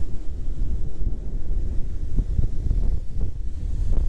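Big surf crashes and rumbles onto Deoksan Beach in Korea, a deep, continuous roar heavily buffeted by wind noise on the microphone, with no voices.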